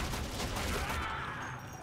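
Rapid volleys of gunfire in the shooter game Warframe, a dense, loud burst of shots filling the whole short stretch with no pauses, no talk over it.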